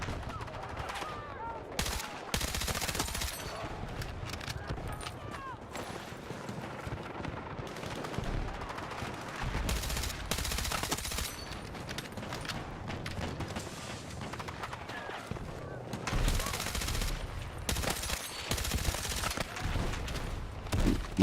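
Heavy gunfire in the video game Battlefield 6, with repeated loud automatic bursts and scattered shots crowding the whole stretch, interrupted by brief booms and explosions, all fairly close and dense.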